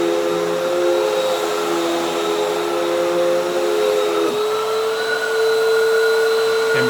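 A Hoover Windtunnel 3 High Performance Pet UH72630 upright vacuum cleaner runs loud and close, a steady roaring whine whose motor pitch shifts partway through.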